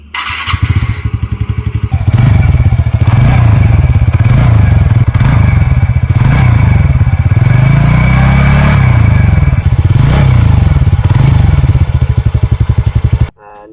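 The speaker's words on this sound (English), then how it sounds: "Let's hear the exhaust bit." A TVS NTorq 125 scooter's exhaust, tuned for a deep bassy note, idles close and loud with a throbbing low rumble, then rises and falls through a couple of revs before cutting off.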